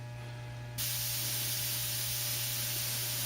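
An air compressor hums steadily, and then a loud, continuous hiss of Spaz Stix chrome spray paint suddenly starts and keeps going close by, with no talking.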